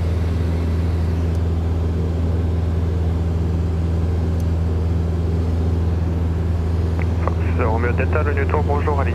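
A Robin DR400 light aircraft engine drones steadily and loudly from inside the cockpit throughout, with radio chatter coming through over the engine noise near the end.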